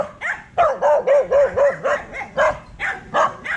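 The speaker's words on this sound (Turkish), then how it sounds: "Havlayan köpek ısırmaz diyorlar." A dog barking on a hiking trail in Bataan, Philippines, a close, loud run of about a dozen steady, evenly spaced barks.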